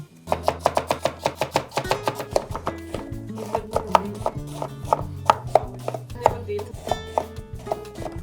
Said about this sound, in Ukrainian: беремо корінь селери та моркву. Селера. Подрібнюємо.